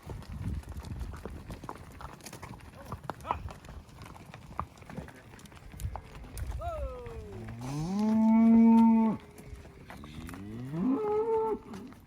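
Cattle moo loudly and repeatedly, long drawn-out calls rising and falling, while cows are herded on horseback by riders starting young colts at a rock corral, with hoof clatter and rustling underneath.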